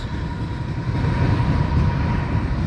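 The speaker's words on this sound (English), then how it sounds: "look at that spanky brand new locomotive" A CSX freight train rolls past in Folkston, Georgia, a loud, steady low rumble of locomotive and rail cars close by, the heavy roar building slightly and holding without pause.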